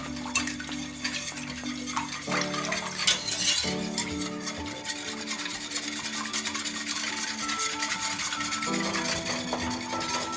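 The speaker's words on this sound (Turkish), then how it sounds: "Biraz karıştıralım." Sugar and egg being stirred into milk in a pot, a continuous close scraping and rubbing of a utensil against the bowl over steady background music.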